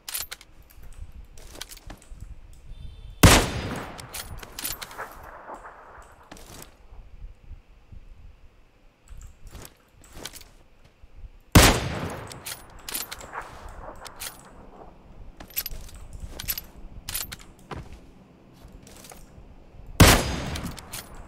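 Gunfire in the PUBG PC Lite video game: three loud, sharp shots spaced several seconds apart, each trailed by short bursts of lighter crackling reports and clicks, with no talking.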